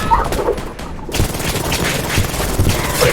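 Rapid bursts of automatic gunfire from soldiers in the shooter game Polyfield, loud and continuous across the moment with dense overlapping shots and no voices.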